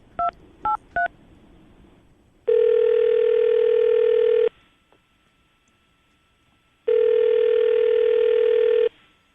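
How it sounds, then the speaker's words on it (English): A telephone call is dialed with three quick touch-tone beeps, followed by two long, loud electronic ringback tones separated by a pause of quiet line hiss. "we're going to call her right now."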